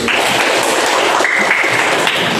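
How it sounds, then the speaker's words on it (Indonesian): Students applauding a classmate in a classroom, a dense, steady wash of clapping that fills the whole moment at close range without letting up. "tepuk tangan untuk Dikri"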